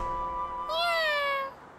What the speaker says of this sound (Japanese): 猫じゃないか。